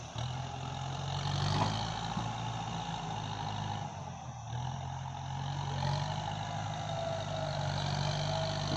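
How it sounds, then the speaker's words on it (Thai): A heavy diesel tractor engine rumbles steadily nearby while plowing an orchard, its pitch rising and falling as it works under load, with no voices. "วันนี้รถมาไถสวนครับ"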